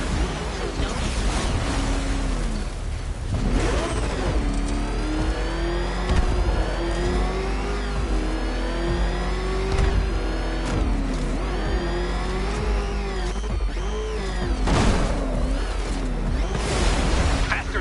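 Car engine in a Batman video game on PS4 revving and accelerating repeatedly, rising and falling in pitch under continuous game music and effects, with a voice talking at times.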